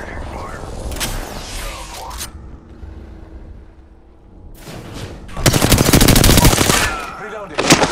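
Video game gunfire: bursts of rapid automatic fire, loud and close, separated by a quieter lull before a longer, heavier volley and a final short burst.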